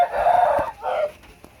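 Chickens on a Filipino farm: a loud, close rooster crow followed by a second shorter call, with scattered clucks and faint farmyard noise around them.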